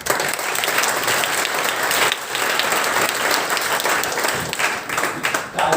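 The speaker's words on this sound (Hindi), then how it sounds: "तालियां मेरे लिए बोलिए कि मैडम के लिए बोलिए?" A lecture-hall audience at an IIT event claps for a guest professor's introduction, continuous crowd applause at moderate loudness with brief dips and swells, no talk over it.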